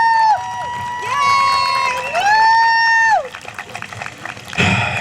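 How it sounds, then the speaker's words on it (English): A crowd at a Lincoln Park protest against cuts to adult education cheers loudly, with long rising and falling shouts and whistles over scattered clapping, ending in a burst of noisy applause. "Give yourselves a round of applause"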